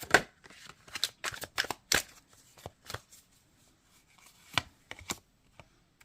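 Tarot cards shuffled and flicked up close, a quick run of crisp papery snaps and riffles that thins out into a few sparse slaps and taps at the end.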